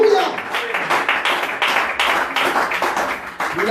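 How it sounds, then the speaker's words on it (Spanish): A church congregation clapping hands in loose, rhythmic bursts, fairly close, with a voice speaking over the clapping. "Dele un fuerte aplauso como él se lo merece."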